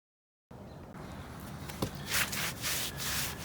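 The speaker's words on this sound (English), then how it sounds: "use your sponge to clean up some of the things that look like trowel marks" A sponge scrubs and rubs across freshly troweled concrete stepping stones in a backyard, giving soft, gritty swishing strokes that swell and fade unevenly, close and fairly quiet.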